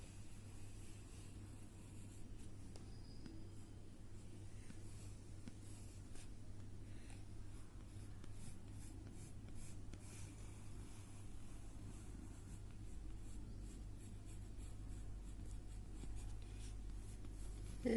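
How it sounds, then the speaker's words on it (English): A pencil drawing an apple shape on cardboard: soft, continuous scratchy strokes, very quiet and close, over a low steady background hum, with no talking. "So we will draw an apple shape on cardboard."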